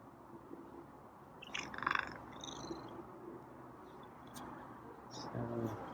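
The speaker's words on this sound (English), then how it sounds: "I think he's still purring." A feral cat purrs softly while being petted, a low continuous rumble under a quiet voice, with a few faint chirpy meow-like sounds in between.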